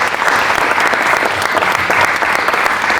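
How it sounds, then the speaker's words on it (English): An audience at a diversity and inclusion panel event gives the panellists a sustained round of applause, a dense, loud, even wash of many hands clapping throughout. "a massive round of applause quickly to all the panellists"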